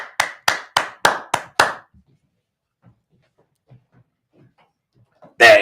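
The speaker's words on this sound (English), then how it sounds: "Clap, clap," A small group claps in six sharp, evenly spaced bursts, followed by faint scattered taps and near silence before a louder noise at the end.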